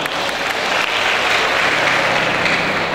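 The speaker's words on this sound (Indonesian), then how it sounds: "Tepuk tangan untuk kita semua." A seated audience at a university event claps steadily, a dense wash of applause that stays loud and even from start to end.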